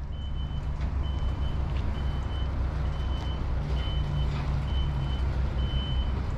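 A reversing truck backs into a driveway, its high electronic beep repeating at an even pace over the low steady rumble of the idling engine, fairly close and continuous throughout.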